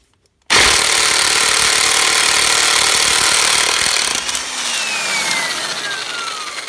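Earthquake XT EQ1 stubby ultra-compact air impact wrench removing a lug nut: a loud, continuous pneumatic rattling buzz lasting about four seconds, then easing into a lower, steadier whir as the nut spins free and the tool winds down.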